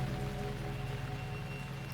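Steady rain falls through the night, a soft, even hiss with a faint low hum beneath it and no voices.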